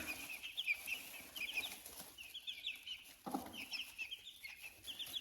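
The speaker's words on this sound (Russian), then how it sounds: "Радуются цыплята чистой подстилке." Chicks cluck and cheep softly on fresh, clean bedding, with repeated high peeps, a brief flurry of wing flapping and low rustling throughout, fairly faint and with no talking.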